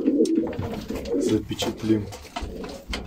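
Andijan pigeons coo in low, throaty bursts close by at a dovecote, with people talking over and between the calls throughout.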